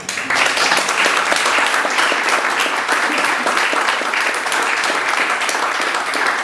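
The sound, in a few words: audience applause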